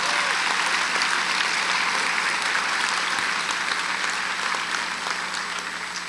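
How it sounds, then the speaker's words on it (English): Sustained applause from a large crowd at an awards ceremony, dense steady clapping that fills the space and slowly tapers toward the end. "Let's give them a round of applause."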